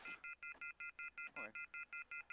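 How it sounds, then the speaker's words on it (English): A telephone left off the hook sends a steady train of about a dozen short, evenly spaced electronic beeps, fairly faint, with a brief voice partly over them. "It sounds like a telephone's off the hook."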